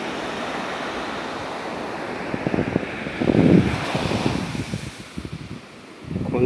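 Sea waves washing in against steady wind noise where a river meets the sea beside a mangrove, with a louder surge midway and rolling rumbles throughout.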